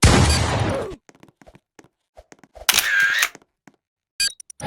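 A timebomb game explosion effect: a loud opening boom that fades within a second, scattered small clicks, then a second bright crackling burst and a short final crackle.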